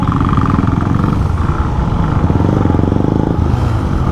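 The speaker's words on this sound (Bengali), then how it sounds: "একজন বাইক রাইড করতেছে" A motorcycle being ridden on a busy road, its engine droning steadily and close throughout, with low rumble and some clatter from traffic.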